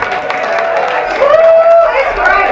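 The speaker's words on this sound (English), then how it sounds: "Let's give her a nice round of applause, everybody." Matinee audience at a tribute show clapping and cheering for the singer, a close, loud burst of applause with a whooping voice rising above it.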